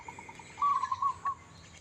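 In the morning at Wat Pong Chai temple in Chae Hom, Lampang, after heavy overnight rain, a bird gives a short series of thin chirps followed by a brief sustained whistled call, close and fairly clear over quiet background.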